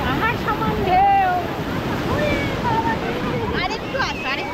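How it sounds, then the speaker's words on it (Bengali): Big ocean waves crash on the beach at Puri in a steady, broad roar, with excited voices and shouts over the surf throughout. "পাহাড় সমান ঢেউ আসছে, পাহাড় সমান ঢেউ।"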